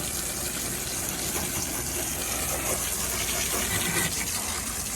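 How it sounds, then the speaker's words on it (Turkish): Water sprays steadily onto the front grille of a car, a continuous loud hiss and splash lasting the whole stretch with no voices. "Suyu da vurunca iyice pislik gitti."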